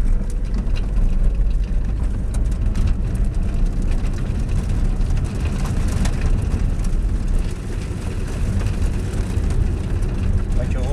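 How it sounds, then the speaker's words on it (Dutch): Car tyres roll over sand and small stones on an open gated track in a continuous low rumble with gritty crunching, close and steady for the whole stretch with no pauses. "Wat je hoort is zand en steentjes."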